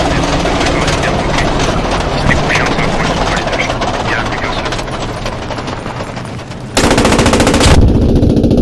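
Rapid machine-gun fire rattles almost continuously in the Post Scriptum video game, sharp bursts overlapping with dense clattering, then a sudden louder, closer stretch of firing near the end.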